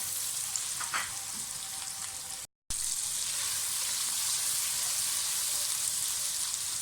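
A large chopped tomato fries in hot oil for murgh chanay, making a continuous loud sizzle with a brief stir early on and a short gap in the sound, and no one speaks.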